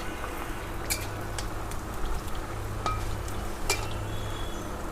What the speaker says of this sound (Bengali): আলু ভাজা চলছে।